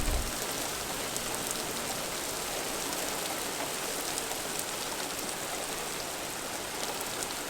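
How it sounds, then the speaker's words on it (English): Steady summer thunderstorm rain pours down in a dense, even hiss, with faint individual drops pattering on a surface throughout. "Occasional thunderstorms continued to provide the rain we needed."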